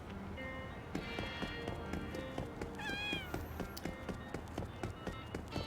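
A cat meows once in the video game No More Heroes 3, a short rising cry heard over busy game music and background effects.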